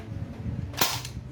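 An airsoft M4A1 rifle fires one sharp single shot, a short crisp snap that stands out above quiet room noise.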